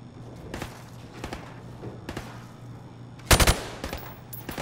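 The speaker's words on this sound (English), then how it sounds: "Now, shoot each target while aiming down the sights." Rifle shots at range targets in Call of Duty: Modern Warfare Remastered on Xbox Series S: a few sharp, spaced cracks, then a quick cluster of louder shots near the end over a low steady hum.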